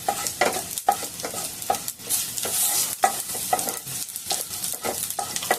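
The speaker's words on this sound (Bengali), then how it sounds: "এইগুলো এবার আমি একটুখানি ভেজে নেব, যেরকম ভাজা হয়।" Panch phoron spices and a large bay leaf frying in oil in a wok, a steady sizzle broken by repeated scraping stir strokes in an uneven rhythm, close up and moderately loud, with no voices.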